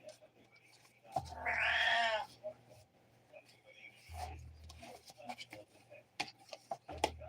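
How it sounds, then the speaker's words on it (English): A domestic cat lets out one clear, wavering meow close by indoors, followed by quieter rustling, taps and scattered household sounds; a person speaks briefly. "That's my cat."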